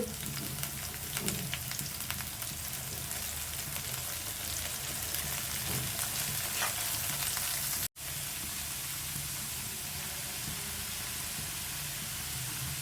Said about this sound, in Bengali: এখন আমি এর ভিতরে দিয়ে দিচ্ছি কুচি করে রাখা বাঁধাকপি।